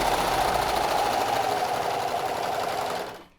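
A Brother 1034D serger runs steadily, running off thread tails, with a continuous loud mechanical whir and rapid needle rattle for about three seconds before it quickly winds down and stops.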